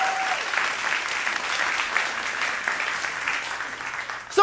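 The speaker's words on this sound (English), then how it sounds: "everyone give Zach a big round of applause as well" Steady, dense audience applause fills a live psychology-themed magic show, a sustained wash of many hands clapping that holds at even strength before tapering off.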